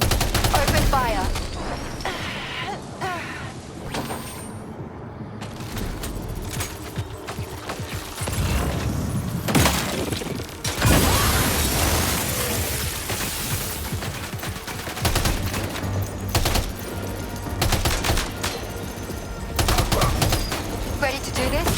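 Gunfire and mechanical clatter from the video game Death Stranding 2, dense bursts of shots with creaking, ratcheting machinery over a continuous busy game soundscape, loud and sustained throughout.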